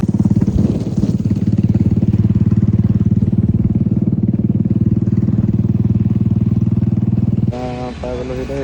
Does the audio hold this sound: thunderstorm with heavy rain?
no